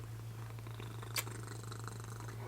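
A young-looking pet cat purring steadily and softly up close, a low continuous rumble with a brief sharper noise partway through.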